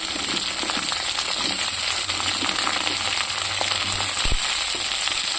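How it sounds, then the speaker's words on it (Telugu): Chopped green chillies, washed in salt water, sizzle and crackle steadily in a hot pan, a loud, continuous frying hiss with scattered pops and a faint stirring scrape near the end. "పచ్చిమిర్చిని సాల్ట్ నీళ్ళల్లో కడిగేసుకొని ముక్కలుగా కట్ చేసేసుకొని వేస్తాను"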